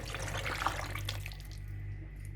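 Sauce being poured out at home, a soft continuous liquid splashing and trickling at close range that fades after about a second and a half.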